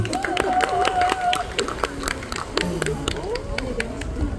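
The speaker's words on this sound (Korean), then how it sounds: "박수!" Hand clapping from a small crowd for a saxophone player after an energetic outdoor performance, steady and close, with voices talking over it throughout.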